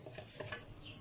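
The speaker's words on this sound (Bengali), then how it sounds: "এটা ভালো করে নাড়া দিয়ে এটা মিশাই দিতে হবে" A spoon stirs beef into thick haleem in a pot, a soft close scraping with a faint sizzle beneath, brief and quiet.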